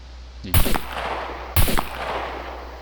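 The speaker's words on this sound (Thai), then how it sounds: "เสียงนี้นั่นดี ช็คกระสุน ปุ๊บ เช็คกระสุนนี่มันถอดแบกออกมาอย่างนี้เลยฮะ" Gun handling in the survival video game SCUM while checking ammunition, with the magazine pulled out: two sharp, loud mechanical clacks about a second apart, each followed by a brief rattling tail.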